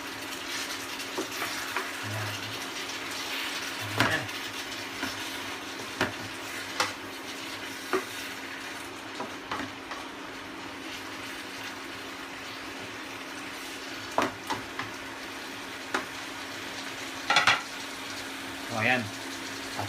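Galunggong fish soup being stirred gently in a pot, with a low simmering bubble, a steady hum and occasional soft clinks and scrapes, close and fairly quiet.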